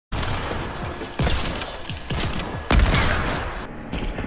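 Rapid gunfire in the video game Fortnite, a dense broadband burst of shots that carries across the whole clip, with louder impacts near the start, the middle and around two-thirds through.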